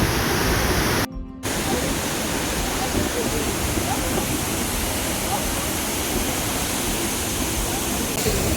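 The Vazhvanthol waterfall in Vithura, Trivandrum, gives a loud, continuous roar of rushing water, broad and unbroken apart from one brief dip.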